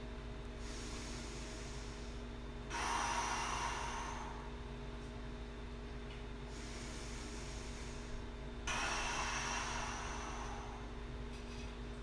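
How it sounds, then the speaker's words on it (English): Slow, steady breaths during a one-legged hip-stretching yoga squat: two long hissing exhales a few seconds apart over a constant low room hum, with no talking. "Just a few breaths."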